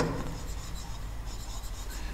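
Chalk or marker scratches steadily across a board as a short word is written, a close, continuous rubbing scrape with no speech.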